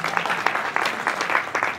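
Audience applause at a Hindi kavi sammelan poetry gathering, a dense burst of many hands clapping steadily for under two seconds, fairly loud and close with no speech over it.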